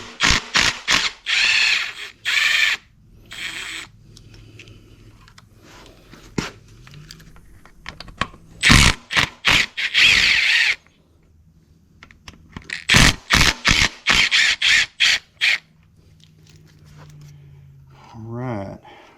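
Power impact gun working on bolts of a 1977 Trans Am with a 455 and four-speed, firing in repeated loud rattling bursts separated by pauses, with faint background sounds between.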